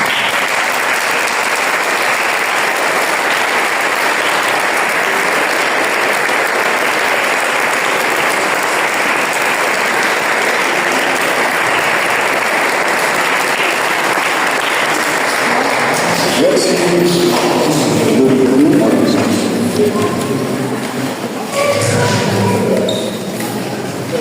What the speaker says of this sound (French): Alors je vais demander à Jade, Clément et Mathéo de se retourner pour que vous puissiez les acclamer.